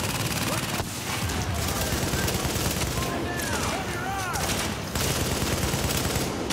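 Bursts of automatic gunfire and scattered shots from the video game The Division during an online Russian Consulate mission, loud and continuous with rapid repeated firing and brief lulls, and a player's voice talking over it at times.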